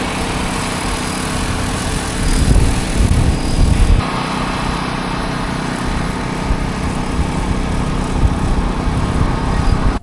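Agricultural spraying drone passing over pasture, its high, buzzing rotor whine constant and fairly loud, swelling briefly as it comes nearer.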